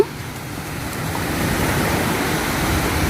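Morning surf washes onto a beach beside a seaside resort in Chumphon, Thailand, a steady, close, broadband rush of waves with light wind noise and no speech.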